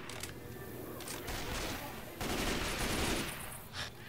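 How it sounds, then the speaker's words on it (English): Assault rifle fire in Left 4 Dead 2, dense automatic bursts forming a noisy roar that swells midway and tapers near the end, close and sustained. "Assault rifle."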